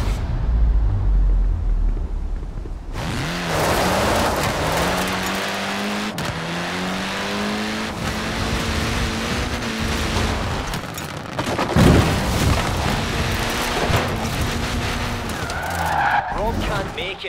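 A Mazda RX-7 drifting in Forza Horizon 4, its engine revving and tires screeching in long sustained skids, loud and close, with a voice speaking over the noise.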